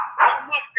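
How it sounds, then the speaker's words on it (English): A dog barks in short, sharp bursts close by, a few quick yelps in under a second. "I can't hear you because the dog's barking."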